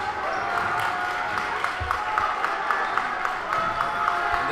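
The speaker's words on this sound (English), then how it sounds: "The crowd is alive here tonight." A high school boys basketball crowd in a section semifinal keeps up a steady roar and cheering, with sneaker squeaks and a few ball bounces cutting through.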